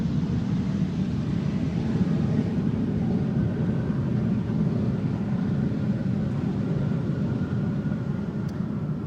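A KLM-operated German Airways jet arrives at Amsterdam Schiphol Airport, its engines giving a steady, broad low roar that holds without a break, with no voices over it.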